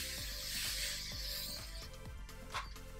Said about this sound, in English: I'm just gonna use a little bit of hairspray